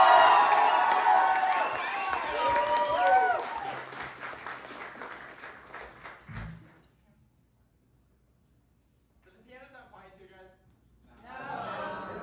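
Strong applause and cheering from a concert audience at The Middle East club, loud at first then fading to near silence, with scattered voices returning at the end.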